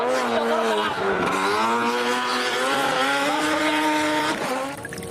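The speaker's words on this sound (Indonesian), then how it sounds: "lihat teman-teman, ada mobil balap" A toy race car produces a loud, continuous, high-pitched racing engine roar with rising and falling revs, sustained throughout with no gaps.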